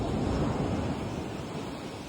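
Ocean surf where a canal meets the sea, a steady low wash of water with some wind noise on the microphone, fading slightly over a couple of seconds, with no voices.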